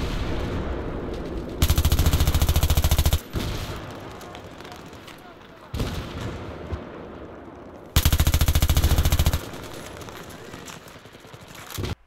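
Two long bursts of rapid automatic fire from an MTAR-21 assault rifle in Battlefield 3, loud and close, separated by quieter stretches of game ambience.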